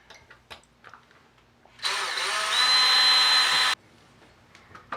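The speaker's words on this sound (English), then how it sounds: "Just drilling holes." A power drill drills holes for curtain fittings in one steady, loud, close burst of about two seconds, set between quiet room sounds and light knocks.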